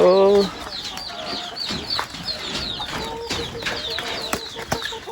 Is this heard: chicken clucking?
yes